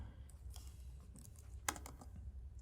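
Fingers tap on a computer keyboard in scattered bursts of light clicks, with one sharper key strike partway through, quiet and close with no talk.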